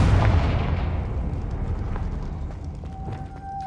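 A Confringo fire-blast spell in Hogwarts Legacy bursts with a heavy low boom up front, then rumbles and decays with scattered crackles and a faint tonal ring near the end.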